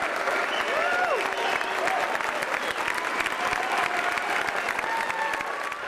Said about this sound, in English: they gave him a standing ovation